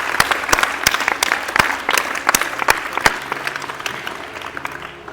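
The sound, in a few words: audience applause welcoming performer Daksh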